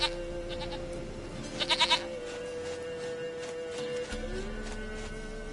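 A goat in The Witcher 3: Wild Hunt video game bleats in a quick wavering burst, heard over a constant low hum and soft ambient game sounds.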